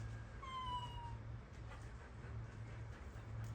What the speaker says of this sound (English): we have our black kitty cat right there